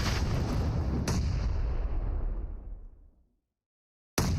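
A grenade explosion in PUBG Mobile during an esports scrim, a loud booming blast with a long rumbling decay fading into silence before another sharp burst at the end.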